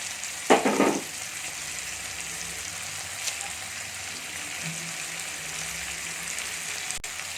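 Fresh mint and coriander leaves sautéed in a pan for Chettinad kadamba chutney, with one short burst of stirring near the start that then settles into a faint, quiet sizzle.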